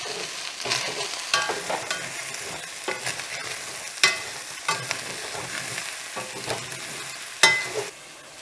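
Mushrooms frying in a pan, seasoned with salt and pepper and given a big stir: a steady sizzle runs throughout, broken by several sharp scraping clatters of the utensil against the pan.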